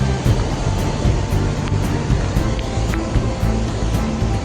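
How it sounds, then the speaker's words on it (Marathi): A river in flood during heavy monsoon rain roars as a dense, close, continuous rush of churning water, with wind buffeting the microphone. "नदी आहे तिचं महार उठलं बघा महार अवतार घेतलाय आमच्या नदीने"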